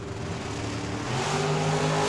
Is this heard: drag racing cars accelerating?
yes